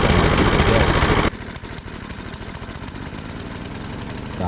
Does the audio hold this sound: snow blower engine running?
yes